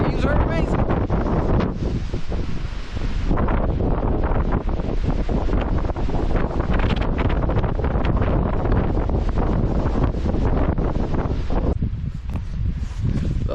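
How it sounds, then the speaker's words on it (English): Strong wind on the summit of Mount Le Conte batters the microphone in continuous loud roaring gusts, with brief lulls where rustling comes through. "A little windy, a little breezy"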